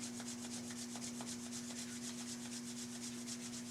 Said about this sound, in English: When you're ready to bring hands together, let's rub them rather vigorously.